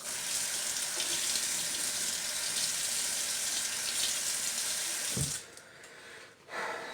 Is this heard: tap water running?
yes